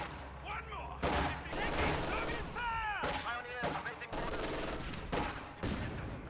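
In the Company of Heroes 2 battle, an MG42 machine gun fires in rapid bursts amid other gunfire and explosions, dense and continuous, beneath a commentator's steady talk.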